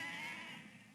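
Sheep penned up and waiting their turn to be dipped let out a single drawn-out bleat, fairly clear and fading toward the end.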